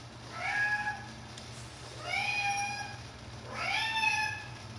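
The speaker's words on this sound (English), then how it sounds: "Kitty." A cat named Shadow meows three times at evenly spaced intervals, each a drawn-out, rising and falling call, close by and moderately loud over a faint low hum.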